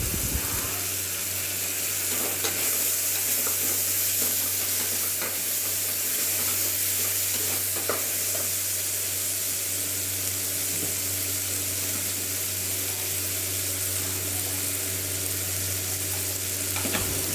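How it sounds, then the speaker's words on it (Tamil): Onions and tomatoes sauté in a pan with salt and dried red chillies for a Tamil arisi paruppu sadam, giving a steady, close sizzling and frying hiss that runs continuously, with no talking. "வெங்காயம் தக்காளி நல்லா வதங்க ஆரம்பிச்சிச்சு."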